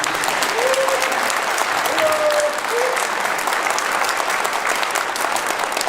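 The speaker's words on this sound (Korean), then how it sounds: "박수 한번 부탁드립니다." Loud, sustained applause from a gathering of overseas Koreans in China during a presidential visit, dense and even, with a few brief vocal cheers rising within it.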